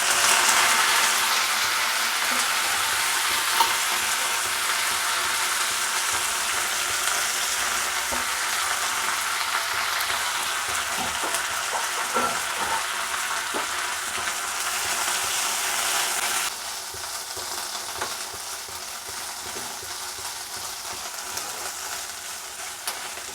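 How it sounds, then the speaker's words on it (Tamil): Curry leaves frying in oil in a pan, a dense continuous crackling sizzle that runs steadily throughout and drops slightly in level partway, with faint stirring clicks and no talk. "இந்த எண்ணெயிலே இந்த கருவேப்பிலையும் போட்டு வறுத்துக்கோங்க."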